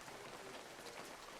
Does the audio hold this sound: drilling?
no